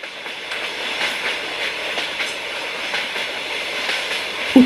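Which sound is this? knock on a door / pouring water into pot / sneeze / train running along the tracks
train running along the tracks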